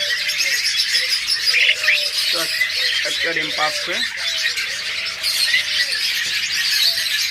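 Pet budgies, forpus parrots and lovebirds squawk and chirp in repeated sharp bursts nearby, with someone talking over the birds throughout.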